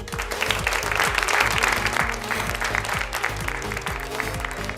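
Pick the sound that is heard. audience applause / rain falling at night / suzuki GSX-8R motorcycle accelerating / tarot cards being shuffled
audience applause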